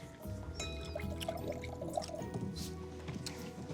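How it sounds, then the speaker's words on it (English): Wine pours steadily into a glass with a soft gurgling trickle, quiet and close, with faint background hum. "Can you pour me more?"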